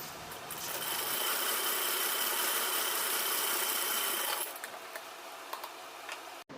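A sewing machine stitching the sleeve of a lined suit, running as a continuous, even whirring buzz for about four seconds before it stops, followed by a few quiet handling clicks.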